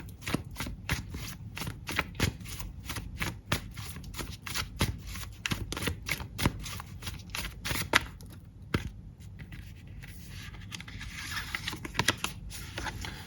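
Tarot cards being shuffled by hand to draw a clarifier card, a steady run of quick, crisp riffling flutters and soft slaps up close, with no talking.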